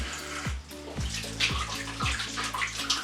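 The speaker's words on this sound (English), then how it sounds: "I want to show you how to wash the oranges with the tap on." Tap water runs steadily while oranges are washed beneath it, a loud close splashing stream with regular deeper knocks as the fruit is turned, and no talking.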